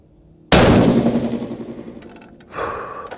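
A single sharp rifle shot from a 6.5 PRC loaded with IMR4831 powder, loud and close, with a decaying rumble that trails off before a second, softer thump follows.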